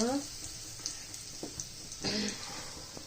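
Cumin seeds and asafoetida sizzling in hot oil in a kadhai, a faint, steady hiss with small crackles, quiet and close, with soft talk over it.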